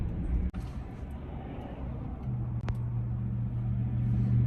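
A car rolls through backed-up school-zone traffic on a wet, sleety day, giving a steady low road rumble and engine hum with a brief sharp knock partway through and a lower idle tone toward the end.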